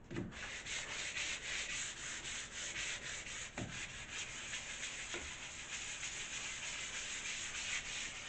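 Pool table wood being scuffed with sandpaper after an earlier 80-grit pass, a steady continuous rasping hiss up close with a few faint knocks, no talk.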